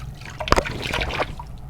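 Water trickles and splashes briefly while a razor is rinsed between shaving passes, a close, soft liquid patter lasting under two seconds.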